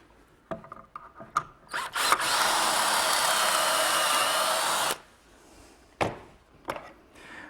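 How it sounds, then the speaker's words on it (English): A step drill bores a pocket hole in pine in one loud sustained whine lasting about three seconds, framed by scattered clicks and knocks of handling the workpiece and jig. "to drill the hole I have this step drill"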